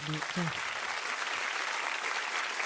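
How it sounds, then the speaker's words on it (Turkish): Applause from a crowd after a Turkish folk performance, a dense continuous clapping wash heard at moderate distance, with a brief voice at the very start. "teşekkür ederim alkışlarınız için"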